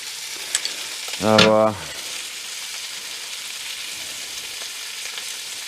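Old sheep meat fries in a pan with a steady soft sizzle and hiss, while a single short spoken word cuts in briefly near the start.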